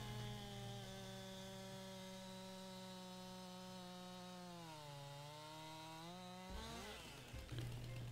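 Chainsaw in the video game Farming Simulator 22 revving steadily for several seconds as it cuts down a tree, pitch dipping under load, then cutting off with a brief rustling crash at the end.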